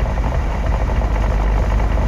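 A V6 engine in the Car Parking driving game hums at a steady, low idle, an unbroken close drone with no voices.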